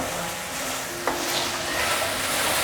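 Sticky rice and mushrooms are quickly stir-fried with a splash of Malaysian dark soy sauce, giving a continuous close sizzle with a brief scrape of the spatula partway through.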